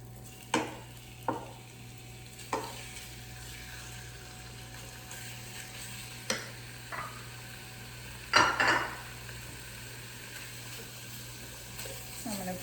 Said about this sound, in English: I'm going to let the onions and the ground beef saute together a little bit.